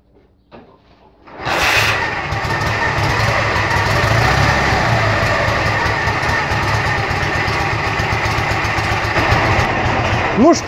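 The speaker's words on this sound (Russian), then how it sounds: "мотоцикл у нас заводится и работает" A motorcycle engine starts after a carburetor main jet change, catching abruptly after a quiet lead-in and settling into a loud, steady running idle close by, with no speech over it.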